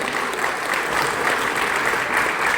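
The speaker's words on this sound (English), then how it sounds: "Can we give him a hand of applause," Dense, steady audience applause at a book launch event, continuous clapping from a crowd at even volume throughout.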